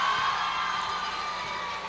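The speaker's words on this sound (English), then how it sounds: "One side booing Price from the line, the other cheering after he gets it." A packed high school basketball gym crowd roars during a free throw, a loud, steady wash of mixed booing and cheering voices that holds throughout.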